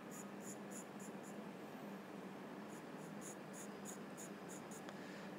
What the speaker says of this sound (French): je vais juste faire quelques traits sans trop appuyer